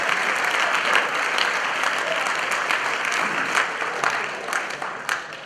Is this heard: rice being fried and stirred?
no